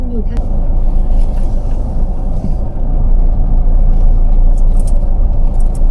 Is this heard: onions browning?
no